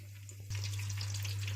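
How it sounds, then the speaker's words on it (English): Chicken frying in oil in a pan, a loud steady sizzle and crackle that jumps up sharply after a brief quieter start and then holds continuously to the end, with a low steady hum underneath. "Now we put on the oil. Yes, that's frying."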